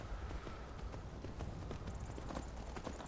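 Horse hooves clip-clop steadily in Skyrim, a brisk rhythmic run of hoofbeats over a dense, loud background of game ambience.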